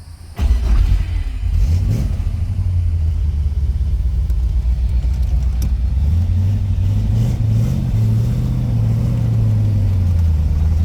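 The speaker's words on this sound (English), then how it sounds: "this 1968 Chevrolet Corvette convertible. Let's go for a ride." A 1968 Chevrolet Corvette convertible with a 4-speed manual gearbox accelerates on the road, its engine producing a loud, continuous low rumble that climbs gradually in pitch from inside the car.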